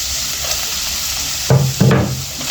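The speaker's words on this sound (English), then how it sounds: "Stir the onion in and cook till translucent." Onions tip into hot oil in a pan and start frying. A low background hiss runs under two loud bursts of sizzling as the onions go in and get stirred, and nobody speaks.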